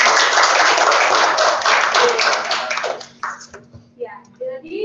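Children in an online class clap together briefly and loudly, the sound thinning out and trailing off into scattered taps as a voice and speech come through at the end.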